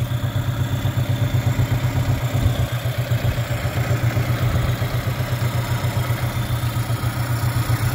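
A 1995 Mercury 8 hp long-shaft two-stroke outboard runs steadily at idle, close and loud, with an even rapid throbbing and mechanical clatter and no talk.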